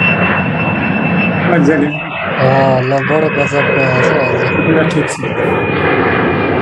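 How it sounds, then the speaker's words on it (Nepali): An airplane sound effect from a PowerPoint animation plays over a screen share, a steady engine drone that runs throughout while people talk over it. "प्लेन आइहाल्यो नि"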